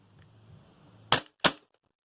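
A Walther PPQ airsoft gas pistol fires two sharp, close cracks about a third of a second apart after a quiet lead-in, each shot short and snappy with a brief metallic tail.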